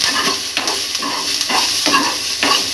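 Close, steady sizzle of food frying in a pan, stirred in repeated scraping strokes about every half second, loud and continuous with no talking.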